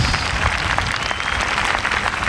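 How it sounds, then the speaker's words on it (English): A church congregation at an outdoor-style preaching gathering in Mitchells Plain claps, a dense rough burst of hands mixed with crowd noise and low rumble, sustained for a couple of seconds. "Give yourselves a big clap"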